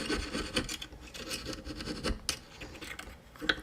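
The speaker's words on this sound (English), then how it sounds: "I'm doing a little bit of cleanup work with the saw blade rather than trying to get a file" A jeweler's saw blade cleans up pierced lines in metal. Close, continuous rasping and rubbing strokes carry a few sharper scrapes.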